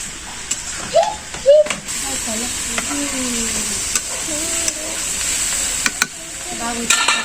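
A young girl cooks in a village kitchen in Bangladesh. Food hisses steadily in a pan, with stirring clinks, while voices talk over it.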